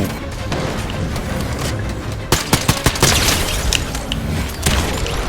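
Gunfire in the Fortnite video game, a dense, loud stretch of rapid shots and booming impacts over a busy layer of game noise, with sharp separate cracks in the middle.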